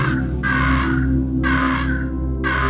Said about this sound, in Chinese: 艾达碰到讨厌的乌鸦人，怎样？乌鸦人会，他会咬我吗